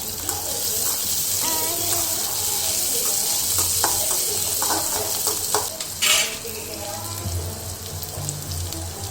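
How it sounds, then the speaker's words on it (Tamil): Small onions sauté in hot oil for a brinjal poriyal, a continuous loud sizzle with stirring scrapes and a brief louder burst near the end. "வெங்காயத்தை ஆட் பண்ணிவிட்டு நல்லா வதக்கி விடுங்க"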